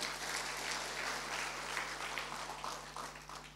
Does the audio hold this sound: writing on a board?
no